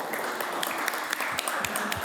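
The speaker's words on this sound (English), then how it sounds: "Give a round of applause for our alum or our program participants." Audience applause at an entrepreneur program event, a short burst of scattered clapping with distinct individual claps standing out near the listener.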